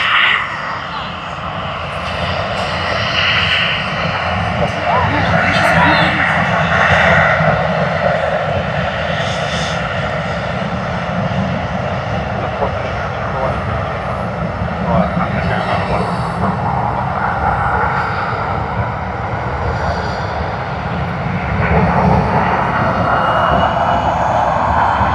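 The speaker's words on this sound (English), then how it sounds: "let us have a look at Qantas's Boeing 737." A Qantas Boeing 737 at Sydney Airport produces a loud, sustained jet engine roar that swells and fades gradually as the aircraft operates nearby.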